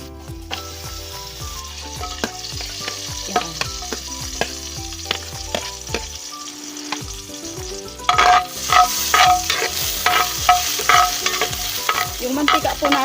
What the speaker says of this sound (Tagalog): magigisa po ako ng bawang, sibuyas at luya